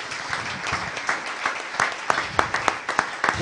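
Church congregation applauding the Lord during a sermon, a dense steady wash of many hands clapping with sharper claps standing out toward the end, fairly close and continuous with no talk over it.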